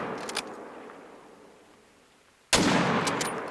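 A single sharp rifle shot cracks out loud and close in the hunting game Hunter: Call of the Wild, with a brief decaying tail after a quiet stretch of ambient outdoor sound.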